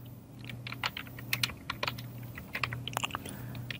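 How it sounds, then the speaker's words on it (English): Typing on a computer keyboard to enter a name into a jar label design: quick, irregular key clicks up close and fairly faint, over a low steady hum. "So now I'll write down ASM Arif"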